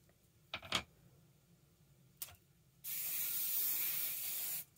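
Hairspray is sprayed onto teased hair while it is styled into a wet look: faint clicks and taps, then one sustained, fairly loud spray burst of about two seconds, with no talk.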